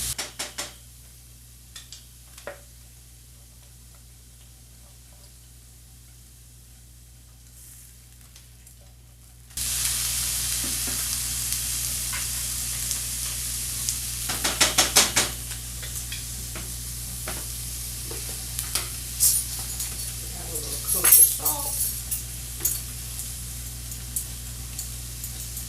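Kale sizzling and frying in a pan after apple cider vinegar is added, a loud hiss bursting in after a quiet start, with stirring scrapes and clinks of utensils against the pan.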